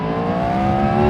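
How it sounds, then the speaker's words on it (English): A Yamaha MT-09 motorcycle exhaust revving: a loud, steady engine drone with a rising pitch, continuous for about a second with no talking. "let's just have another listen to that exhaust"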